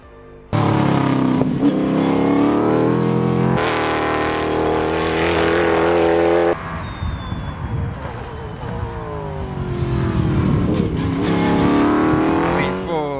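An S5000 open-wheel race car at Queensland Raceway roars past, its engine note climbing through gear changes, dropping away and rising again.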